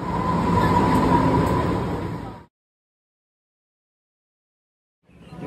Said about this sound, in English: It's a local train.